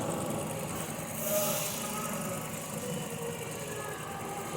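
A car engine idles steadily during a misfire diagnosis, a continuous mid-pitched hum with a brief louder swell near the start, held at moderate level throughout with no talk over it.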